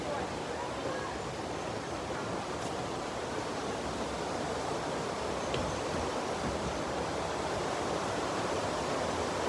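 A waterfall at Cat Cat Village in Sapa, Vietnam, rushes as a steady, broad wash of water noise, fairly faint and constant throughout with no break.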